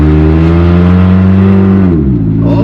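A run-down Ford Escape's engine holds a loud, steady drone while driving around a private yard, then drops in pitch as the revs fall off near the end, with no voices.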